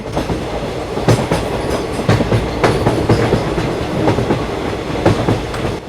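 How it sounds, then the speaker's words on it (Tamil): A train rushes along with a rhythmic clickety-clack of wheels over rail joints, loud and close, in continuous rumbling motion. "முதல்ல மெதுவாக போய்கிட்டு இருந்த ட்ரெயின் இப்போ ஸ்பீடாக போக ஆரம்பிச்சிருச்சு"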